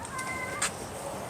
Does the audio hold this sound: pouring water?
no